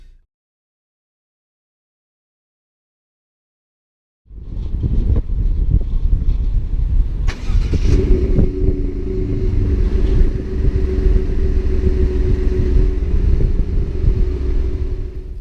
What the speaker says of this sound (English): So we will take this truck for a ride.